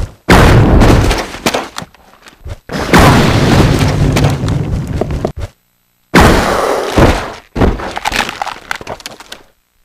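Weapon rounds fire at a spider in Resident Evil Zero: several loud, booming blasts with crackling tails, separated by short silent gaps.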